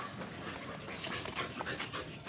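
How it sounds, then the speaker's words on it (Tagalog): A dog nearby panting and giving a few soft whimpers and high whines, irregular and fairly quiet. "Malalaki yung aso dito eh."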